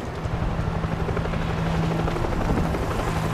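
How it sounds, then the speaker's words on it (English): Helicopter in the video game World War Z Aftermath, a steady loud rotor drone with a low hum, continuous and close for a few seconds, set in a New York level by a river. "We got a chopper! It's headed over the river."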